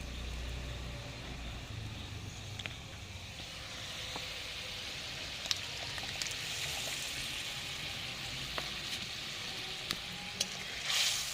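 Mustard paste is stirred into a Bengali catla fish curry in a pan. A steady sizzle and bubbling runs throughout, with occasional small clinks and scrapes of stirring and no voices.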